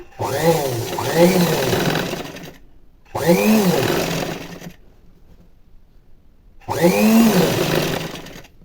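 An electric sewing machine stitches piping onto a plain blouse in three loud close bursts of whirring motor and needle chatter, separated by quiet pauses.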